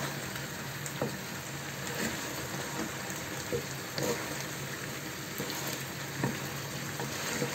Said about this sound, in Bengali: বারবার নাড়া দিতে হবে